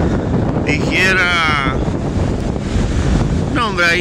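Ocean waves break along a coast with whitecaps under strong, constant wind buffeting the microphone, a loud, steady roar with a voice speaking over it.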